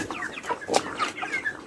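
Broiler chickens eating finisher feed cluck and chirp repeatedly in a close, busy flock, short overlapping calls with no talking.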